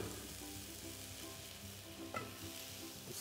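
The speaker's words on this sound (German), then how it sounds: "das brät für sich raus" Vegetables fry in a pan with a soft, continuous sizzle and occasional stirring scrapes, quiet and close with no voices.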